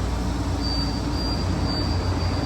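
Continuous low rumbling of a moving Hong Kong local metro car from inside, with a faint high whine running through the steady roar.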